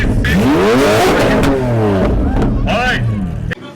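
A Toyota Supra engine revs loudly and close by as the car pulls into an underground car meet, with rising and falling throttle sweeps over crowd noise and voices.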